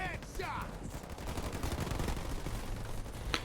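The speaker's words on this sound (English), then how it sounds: "Receiving fire from ground troops." Rapid gunfire from ground troops in the Halo Wars 2 strategy game, a dense continuous rattle of shots with an announcer-style voice briefly over the start.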